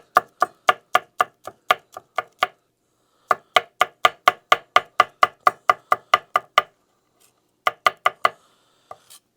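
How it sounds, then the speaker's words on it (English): Rapid, even knife strokes from a small kitchen knife chopping food on a board, heard up close in three bursts of steady knocks with short pauses between, no voices. "So you can just chop it this way."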